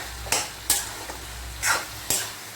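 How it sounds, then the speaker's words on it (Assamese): Fish heads frying with cabbage and tomato in a pan over a gas flame, stirred with a utensil: four bright scraping, sizzling strokes at uneven intervals over a steady low frying hiss, close and fairly loud. "এতিয়া মই এইখিনি এবাৰ চাই লৈছোঁ আৰু ধুনীয়াকৈ লৰাই দিছোঁ"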